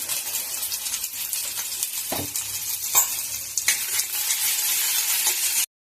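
Onion with ginger-garlic paste, turmeric and spices sizzling in a pan while a spoon stirs and scrapes, steady close frying hiss with occasional clinks, ending abruptly.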